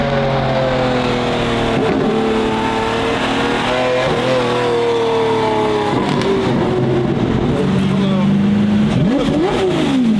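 A Lamborghini Gallardo engine drones loud and steady while driving, with rising and falling revs as the car shifts and accelerates, close and continuous throughout.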